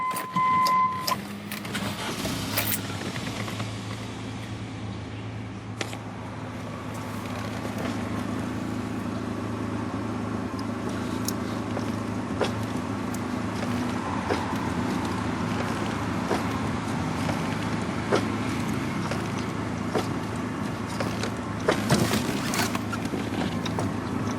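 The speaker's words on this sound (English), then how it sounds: "start the engine." A Land Rover Discovery 1 engine hums steadily throughout, low and continuous with a faint mechanical whine, close by and alone with no talking.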